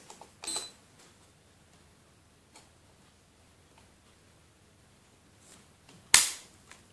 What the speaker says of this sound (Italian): vediamo quanto pesa il peso dello scatto di questa pistola